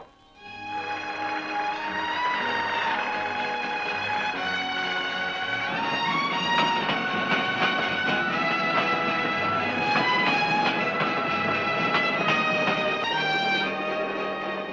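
A loud, continuous rumble of a running train with rattling and clattering, steady throughout with no talking.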